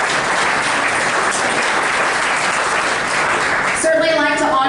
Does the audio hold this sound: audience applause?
yes